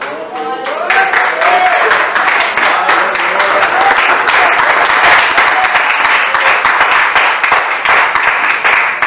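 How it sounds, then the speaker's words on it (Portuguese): A church congregation breaks into loud, dense applause after prayer, hands clapping steadily and closely for several seconds, with a voice heard at the start before the clapping swells and holds. "Vamos apresentar uma salva de palmas para o Senhor."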